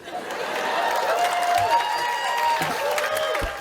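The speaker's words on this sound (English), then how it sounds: "2012, hold for applause." Audience applause and cheering after a speaker's cue at Peter Dinklage's speech event, a steady crowd roar with scattered whoops through the whole stretch.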